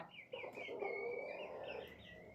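Chickens cluck and squawk close by in short, rising calls, several birds overlapping in a quiet farmyard.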